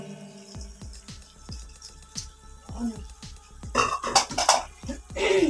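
Crushed ginger is mixed into chicken biryani masala in a pot: a close run of rhythmic spoon taps against the pot, then louder scraping and clattering as the stirring speeds up.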